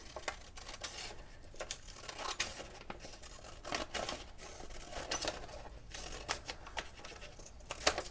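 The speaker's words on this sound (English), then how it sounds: "I'll cut along this red line." Scissors cut a paper bookmark along a marked line, giving a run of soft, close snips and rustles of paper at an irregular rhythm, quiet and alone.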